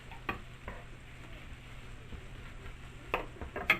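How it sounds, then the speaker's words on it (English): Diced jicama stirred with butter in a pan, with a faint low sizzle under scattered scraping clicks of a utensil and a couple of sharper stirring knocks near the end. "I'm just going to mix this up with the butter"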